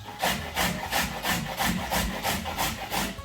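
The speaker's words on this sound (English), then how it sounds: "The only thing with carrots, when you grate them, the pieces end up flying everywhere." Carrots being grated by hand for a lentil bolognese, a rhythmic rasping stroke repeated about eight times, close and even, with no talking.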